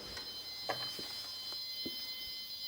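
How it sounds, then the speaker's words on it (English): A high electronic alarm tone rings steadily inside an abandoned hospital ward, a thin continuous whine with a few faint knocks and footsteps scattered beneath it in the empty space. "Some alarm going off."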